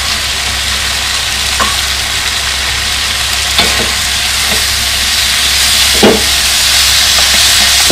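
Cashew nuts stir-frying in a hot pan for Thai chicken give a loud, continuous sizzling hiss, broken by a few sharp scrapes and clinks of stirring.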